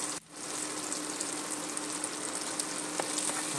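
Garlic, onion and tomato sauté in a hot pan, a steady close sizzle that briefly dips near the start and then holds loud and even, with a few crackling pops toward the end.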